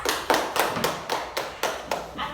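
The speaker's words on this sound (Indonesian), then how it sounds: "Beri tepuk tangan untuk kelompok Mbak Raras." A few classmates clap for a student group in an elementary classroom, a sparse handful of separate sharp claps with short gaps between them, close and moderately loud, with no talking.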